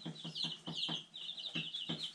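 One-week-old chicks chirp in a quick series of high, close peeps, several overlapping in a busy cluster over a short stretch.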